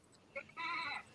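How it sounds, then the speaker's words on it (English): A small goat, a little kid, gives one short rising bleat after a brief faint cry, close and moderately loud, alone with no talk over it. "I heard a goat."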